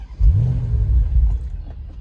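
A 2021 Bentley Continental GT Anniversary Edition engine fires up with a deep rumbling flare, then settles into a smooth, loud idle close by.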